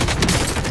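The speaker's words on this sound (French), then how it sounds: "Des coups de feu là-bas, à notre droite." Gunfire in the online shooter game Call of Duty Warzone, a dense burst of overlapping shots crackling steadily through a short stretch, loud and close with a busy, noisy wash behind it.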